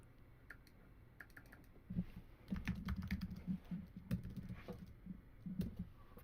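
Computer keyboard typing in a quiet room, a few isolated taps followed by bursts of quick, close keystrokes with short pauses.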